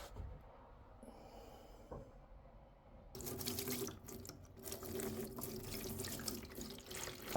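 Acetone pours from a big jug onto a gun being stripped of paint, a steady close splashing and trickling stream that starts after a quiet stretch with a faint drip.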